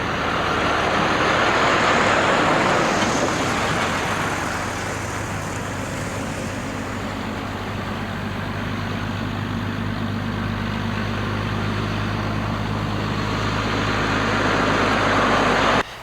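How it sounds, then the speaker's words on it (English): Kenworth trucks with 600-horsepower engines pull out on a valley road, a steady, loud, close engine drone and rumble running throughout with slight swells in intensity. "it's not long before the Kenworths are headed out again"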